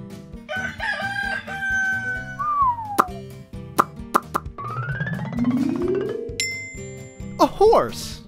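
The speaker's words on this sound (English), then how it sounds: "A rooster." A cartoon rooster crows a loud, stretched cock-a-doodle-doo, surrounded by bouncy plops and boings over a cheerful children's music backing.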